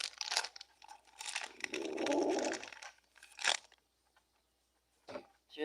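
Crunchy gummy bears being bitten and chewed up close, a few loud crunching bites with a longer grinding chew, then short pauses between bites.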